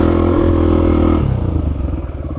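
Honda XR250 dirt bike ridden over a bumpy trail: a steady, close single-cylinder engine drone with rattling, which drops in pitch and turns into a choppier throb as the bike slows, with no voices.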